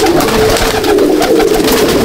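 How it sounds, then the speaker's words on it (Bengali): Malbai/Panjabi pigeons cooing in a loft: loud, close, continuous throaty coos layered over each other, with no talking. "এই হচ্ছে পায়রা। দেখুন আপনারা পায়রা"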